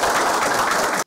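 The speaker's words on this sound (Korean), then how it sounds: "박수." Audience applause at a Korean commemorative event honoring the family of General Seo Il; a dense, loud burst of clapping that cuts off abruptly.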